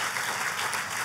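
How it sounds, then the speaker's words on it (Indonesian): A church congregation claps loudly and steadily for God during a sermon, a dense, sustained wash of many hands with no break and no talking. "Boleh kasih tepuk tangannya yang paling meriah buat Tuhan kita."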